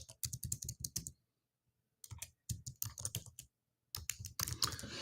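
Rapid typing on a Mac computer keyboard, close and crisp, comes in three quick bursts of keystrokes separated by brief pauses.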